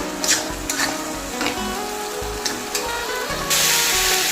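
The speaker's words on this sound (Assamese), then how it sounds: "এতিয়া আমি এনেদৰে এইখিনি অকণমান ভাজি ল'ব লাগিব শুকান হোৱালৈকে" Soybean pieces fry and are stirred in a pan until dry, giving a steady close sizzle with scraping stir strokes that swells into a louder, brighter hiss near the end.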